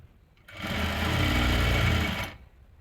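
A sewing machine stitches the folded hem of a dhoti salwar in one close, steady whirring run of about two seconds, starting and stopping cleanly in a quiet room.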